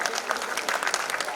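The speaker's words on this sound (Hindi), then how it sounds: "आप उनका जरा ताली बजा के अभिनंदन करें" An audience at a children's talent award ceremony claps in a short, dense burst of applause, steady and fairly close, with a voice speaking over it.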